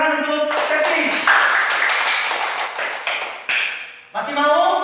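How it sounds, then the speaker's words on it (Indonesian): A classroom bursts into clapping for a student named Seti, a dense rush of many hands at close range that dips briefly near the end, with voices heard around it. "tepuk tangan untuk Seti"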